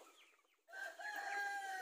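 Rhode Island free-range chickens in a spacious outdoor run: after a quiet moment, a sustained tonal call rises, backed by soft clucking and faint bird sounds, all fairly distant and low in level.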